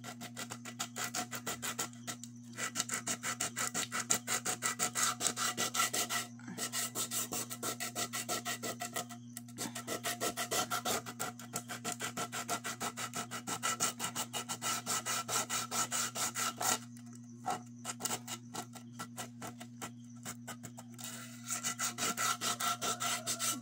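Rapid, continuous rasping of sandpaper rubbing against a damaged frying pan, steady and close, with a constant low hum underneath and brief pauses between passes.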